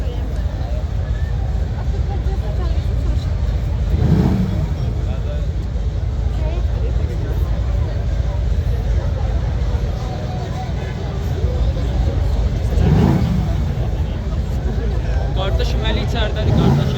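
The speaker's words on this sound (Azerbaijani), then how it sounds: "Ən çirkin maşının səsi" An SUV fitted with carbon parts revs its engine twice in a rough, swelling roar against a steady background of street noise and crowd chatter.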